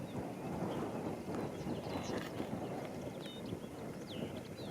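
Steady outdoor wind at a Norfolk wild camp, a continuous broadband rush with gusting low rumble, birds chirping faintly in the background throughout.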